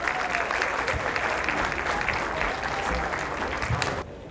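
Sustained audience applause at a high school all-sports banquet, a dense wash of clapping from a crowd that holds steady for about four seconds before cutting off.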